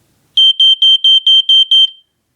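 A smoke detector sounding during a test: seven rapid, piercing high-pitched beeps in an even rhythm, very loud and close, then silence.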